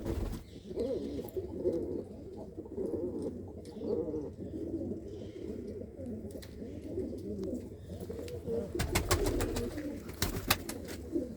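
Racing pigeons cooing in a pigeon loft, a continuous close chorus of low, throaty coos with some wing flutters and clatter toward the end.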